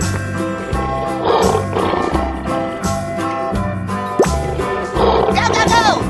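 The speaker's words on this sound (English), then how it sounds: "Lion." A cartoon lion roars amid layered music and sound effects, with a loud growling roar rising and falling over several seconds among tonal instrumental parts.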